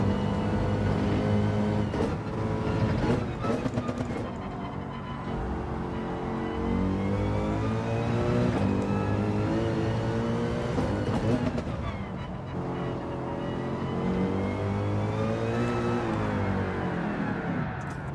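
Porsche race car in Gran Turismo 7 holding a steady, loud engine drone with shifting pitch through a turn, continuous for the whole stretch with a faint voice underneath.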